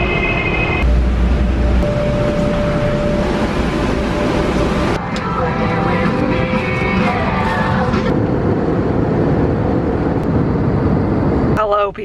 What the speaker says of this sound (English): Taking the train.